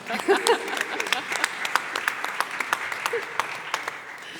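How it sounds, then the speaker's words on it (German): Audience applause at a panel discussion, scattered claps building into a moderate, uneven round from a seated crowd, with a brief voice near the start. "Ein Applaus bitte für Florians Socken."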